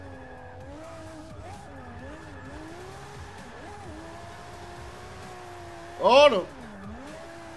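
A Nissan S15 with an RB26 engine spins out in Forza 6, its steady engine whine rising and falling before a short, loud tire squeal near the end; a voice briefly exclaims over it.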